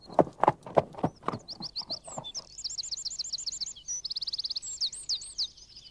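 Hooves of Arabian-blood horses clop in a quick run of loud, sharp beats, then fade as birds chirp and trill in rapid bursts over quiet ground.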